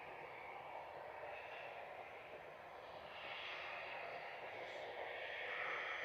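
Airbus A320 departing Manchester Airport for Marrakesh, a broad jet roar swelling gradually in the second half as the aircraft draws nearer, with no talk.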